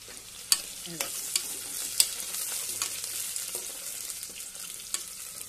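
Onion and garlic frying in a pan, a soft steady sizzle broken by a spoon scraping and tapping against the pan as they are stirred, several sharp clicks spread irregularly across the stretch.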